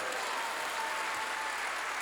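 A church congregation claps in sustained, dense applause, a steady wash of many hands without a break and with no voice on top.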